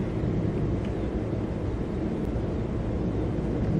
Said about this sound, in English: Plane flying across the country up there.